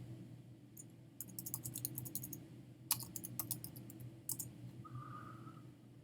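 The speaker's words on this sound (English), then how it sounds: "I'm typing it for you" Rapid bursts of typing on a computer keyboard during a cognitive psychology review session, the clicks close and crisp in uneven runs, with a short steady electronic tone near the end.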